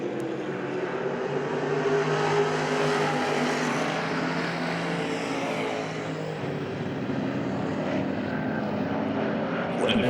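Sprint race cars circle Hagerstown Speedway in a close pack, a dense, loud engine roar that holds steady for the whole stretch.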